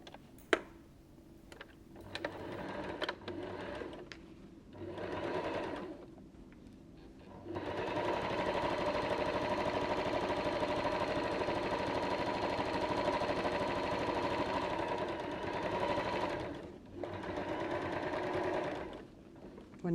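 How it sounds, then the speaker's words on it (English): A sewing machine straight-stitches the back seam of a fabric basket. It opens with a few short starts and stops, then settles into a long, steady, close whirring run before pausing near the end. "we'll just sew entirely down that back seam with a 5mm seam allowance"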